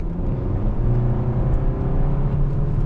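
A 2023 Kia K5 GT-Line engine revving under partial throttle from inside the car gives a steady, loud, low droning hum that holds without sharp change for about three seconds.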